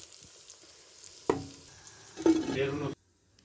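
Chicken curry with spices being stirred in a pan over a low flame, a soft scrape and then a louder clattering stir with gentle sizzling for about a second, close and alone.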